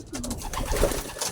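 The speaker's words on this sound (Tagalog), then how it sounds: "Yung ating mga ibon." Young homing pigeons coo near a house after their first training flight. Soft, low, rolling coos repeat a few times, close by, with no talk.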